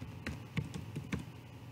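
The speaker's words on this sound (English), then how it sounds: "So type in wallet lock" A short burst of keystrokes on a computer keyboard as a command is entered, about five or six quiet, crisp taps in an uneven rhythm with no voices.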